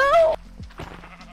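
A single sheep in the Minecraft video game lets out one short wavering bleat, loud and clear, followed by faint low game sounds.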